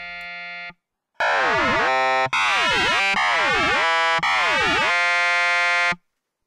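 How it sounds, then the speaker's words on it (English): An FM synthesizer plays a vocal-formant tone with modulator feedback: a short note, a pause, then four long, bright, buzzy sustained notes with sweeping vowel-like overtones, loud and close. "Here I'm adjusting the modulator's feedback just a little bit so the overall sound is a little bit sharper."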